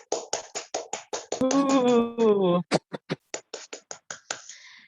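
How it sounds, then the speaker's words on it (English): A small class claps in a steady run of separate, evenly spaced claps, briefly interrupted by a sustained voice before the clapping resumes, close and moderately loud. "let's give applause for all of us"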